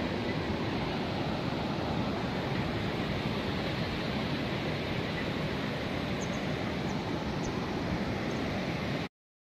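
Floodwater pours steadily into a building in Kullu Manali after a flood, a dense, continuous rushing roar that stays loud and unbroken throughout with no voices.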